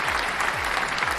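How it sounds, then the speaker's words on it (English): A small live audience claps continuously in a dense, even patter, close and fairly loud, with a faint low thump pulsing underneath. "A little cheer in there."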